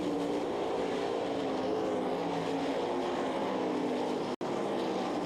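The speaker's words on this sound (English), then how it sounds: "Racing in turn 4, they go bumper to bumper as Foster Landon tries to make his way aroun" 360 sprint cars race bumper to bumper through turn 4 at the Knoxville Nationals, a continuous droning engine roar at mid distance holding steady with one brief dropout.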